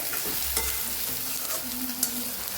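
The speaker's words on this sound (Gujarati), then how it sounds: "લસણ લીલું લસણ જે લીધેલું એ પણ સાથે સાતડવામાં ઉમેરી દઈશું" Chopped onion and green garlic sauté in a pan while being stirred, a soft continuous sizzle with occasional scraping clicks, and no talk.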